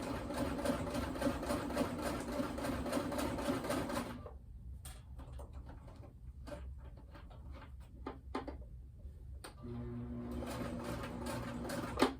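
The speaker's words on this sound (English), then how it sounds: "This time I went and sewed over the string, the thread." A sewing machine stitches a strap guard, its rapid mechanical chatter running steadily and close, pausing for several seconds of quiet handling clicks, then starting up again near the end.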